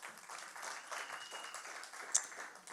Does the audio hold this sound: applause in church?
yes